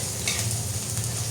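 Onion and garlic fry in a pan, a short burst of dense close sizzling with a steady hiss and no talking.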